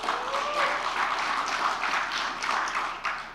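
An audience at a party congress claps in broad, continuous applause that stays fairly loud and even throughout, with no talk over it.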